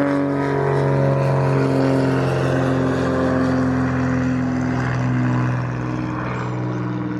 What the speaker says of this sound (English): here's a plane going over, taking off from Alderney Airport.